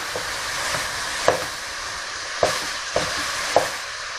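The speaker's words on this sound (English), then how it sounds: "I'm just going to break the mince up." Beef mince sizzles steadily in a pan while a utensil breaks it apart, giving several sharp scraping knocks against the pan over a continuous frying hiss.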